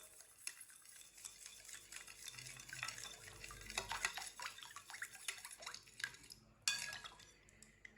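A spoon stirs sugar through lobia (black-eyed pea) chaat in a bowl, with repeated close scraping and clinking strokes against the dish, irregular in rhythm and fairly quiet, with no talking.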